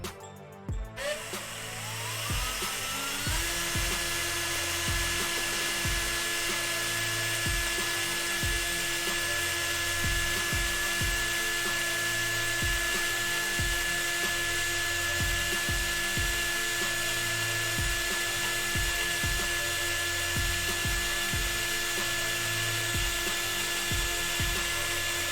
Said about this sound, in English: Sorry about the drilling noise, guys.